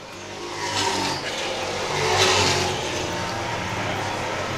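Late model race cars roar around a track during a feature race, a continuous loud engine drone that swells as the pack passes, heard from the stands with a faint announcer voice underneath.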